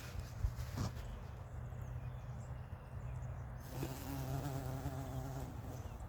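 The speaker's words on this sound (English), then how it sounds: "Looks more like a carpenter bee." A carpenter bee buzzes in a spring garden beside a blueberry bush, a steady drone that runs the whole time and grows fuller and nearer toward the end over a constant low hum.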